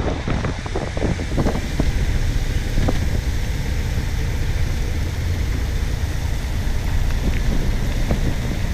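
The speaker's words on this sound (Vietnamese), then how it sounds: "Bên ngoài mưa lắm. Mưa to lắm." Steady heavy rain roars with gusting wind, a dense, loud, unbroken wash of noise with a few faint thumps.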